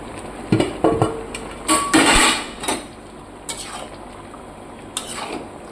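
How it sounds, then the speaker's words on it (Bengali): A spoon stirs chicken curry with kasuri methi in a metal pan, giving loud, close scraping clangs and clinks in irregular bursts, then quieter scrapes. "এই ভালো করে ঘেটে নেবো।"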